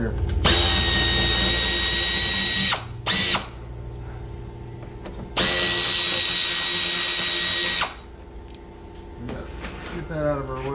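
Power drill backing out transmission bolts on a 2014–2019 Ford Escape 2.0, two long loud whirring runs close by with a brief burst between them, followed by quieter clinks and faint handling noise.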